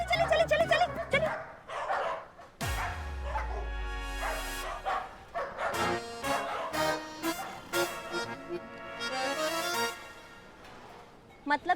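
A dog barks and yips repeatedly in an uneven rhythm, close and loud, mixed with music and overlapping voices.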